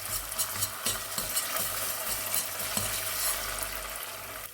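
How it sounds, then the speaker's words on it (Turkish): Tomato paste fries with onions in a pot for a vegetable meatball stew, with a steady close sizzle and a spoon repeatedly stirring and tapping against the pot, and no talking. "salçamı da güzelce soğanlarımla birlikte kavuruyorum"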